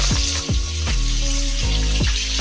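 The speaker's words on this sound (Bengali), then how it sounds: "প্রথমে আমি পেঁয়াজটা একটু ভালো করে ভেজে নেব।" Two medium chopped onions fry in hot oil, giving a loud, close sizzle broken by repeated ringing scrapes as a utensil stirs the pan, with no voices.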